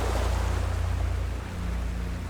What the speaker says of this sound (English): That little splash of water can be so refreshing.